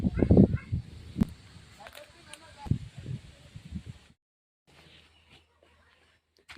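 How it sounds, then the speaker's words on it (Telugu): Ducks and geese honk in quick bursts beside a temple pond at Raghavapuram, loudest at first and then fading to quiet, with rustling and background voices. "బాతులు రకరకాల నీటి పక్షులు ఇక్కడ కనిపిస్తున్నాయి"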